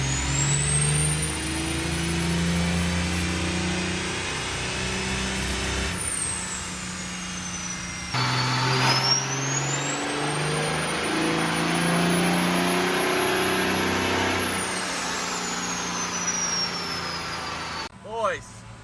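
A 1500-horsepower Cummins diesel truck engine runs a dyno pull: a loud, sustained roar that climbs in pitch, with a high turbo whistle sweeping up and holding for many seconds before dropping away near the end.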